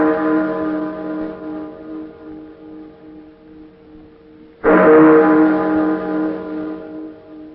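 Church chimes ring late on Christmas Eve in Manhattan, with sustained, humming bell tones that fade slowly before a fresh, louder strike rings out midway and then decays, with no voices.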